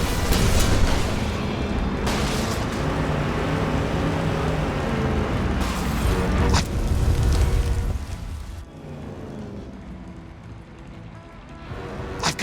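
A dense, roaring rumble of fire fills the air in the game Deliver At All Costs, loud and continuous for several seconds before easing to a lower, quieter crackle near the end.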